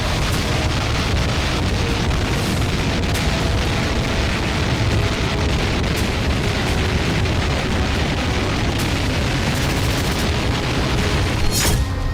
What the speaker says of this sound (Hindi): खेरसोन में रूस की टुकड़ी पर MLRS से भीषण प्रहार किया गया।